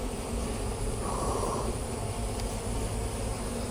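Bees buzzing close by in a garden, a continuous loud drone that rises briefly in pitch as one passes near, with no voices.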